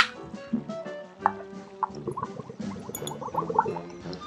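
Someone blows bubbles into a drink through a closed-lid cup, making wet gurgling and bubbling pops that come in irregular bursts, close and fairly quiet.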